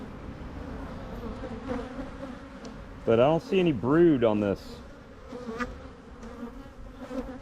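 Honey bees hum at an open hive in a steady low drone that runs under close talk throughout, with speech dominating the middle.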